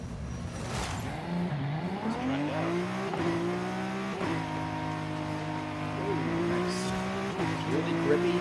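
A Datsun 510 rally car racing in Forza Horizon, its engine droning loud and steady, climbing in pitch and dropping back at several gear changes, with brief tyre noise.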